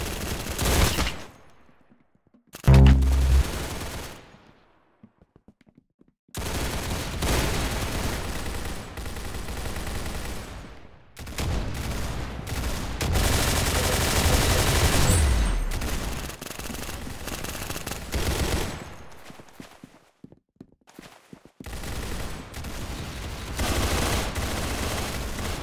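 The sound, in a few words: gunfire in a shooter video game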